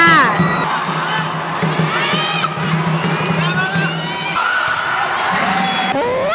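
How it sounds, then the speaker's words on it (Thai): A crowd cheers and shouts at a youth mini-volleyball championship final between school teams, a dense, steady roar of young voices with whoops rising above it throughout. "มาร่วมเชียร์น้องๆไปด้วยกันค่ะ"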